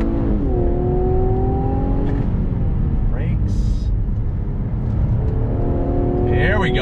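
A 2021 Infiniti Q60 Red Sport 400 coupe accelerating hard from a slow roll in low gear, its engine note climbing through rising revs with a shift partway, loud and close from inside the cabin.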